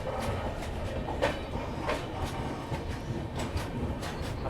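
A Tirumala Express passenger train rolls along on the Kadapa–Vizag line, a steady rumbling rail roar with repeated clacks of the wheels over joints, heard continuously from on board.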